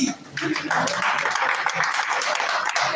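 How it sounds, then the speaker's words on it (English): Dense, steady applause from an audience at a leadership retreat fills the room throughout, with a voice faintly audible beneath it. "Please clap for my GVC."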